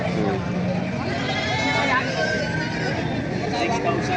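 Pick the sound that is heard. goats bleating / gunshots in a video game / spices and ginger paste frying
goats bleating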